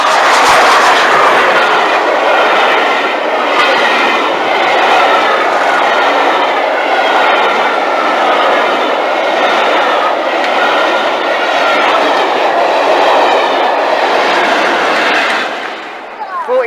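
A train rolls past on a railway line, loud and close, with a steady broad roar and rhythmic rail noise that holds for about fifteen seconds before easing off at the end.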